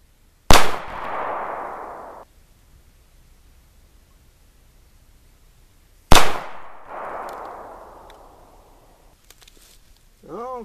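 Two loud, close revolver shots fired at a target several seconds apart, each a sharp crack followed by a rolling outdoor echo that fades over about a second and a half, with quiet between them.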